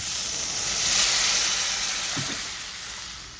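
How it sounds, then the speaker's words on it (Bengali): Liquid poured into a pan of sizzling spice paste for a rohu fish curry, a steady hot hiss swelling near the start then slowly easing, with a brief low splash partway through; no talking. "মশলাটা আমার খুব ভালো করে কষে গেছে এবার আমি ঝোল দিয়ে দেবো"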